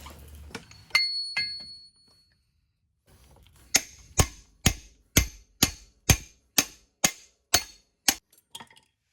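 A metal socket is hammered over an outer axle seal during a Jeep axle and ARB locker repair. A few scattered clinks come first, then a steady run of about eleven sharp, ringing hammer strikes, evenly spaced and close by.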